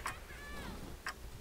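A faint countdown timer in the video game BioShock gives two soft ticks about a second apart, with a thin tonal hum drifting between them.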